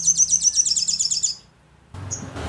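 A caged songbird at a bird kiosk sings a rapid, high, repeated chirping trill, loud and close, then stops, followed by a short pause, background noise and one faint chirp.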